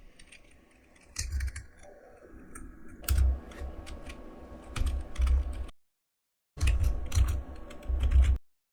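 Bursts of computer keyboard typing while entering code, with irregular clusters of key clicks separated by quieter pauses and a brief silent gap.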